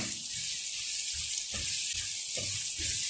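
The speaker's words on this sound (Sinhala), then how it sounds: "මේ එකතු කරගත්ත ලුණු ටිකක් මේ විදිහට අපි තෙලේ බැදෙන්න දෙන්න ඕනේ." Onions fry in hot oil with a steady, bright sizzle that hisses throughout, while soft scraping and stirring knocks sound in a loose rhythm beneath it.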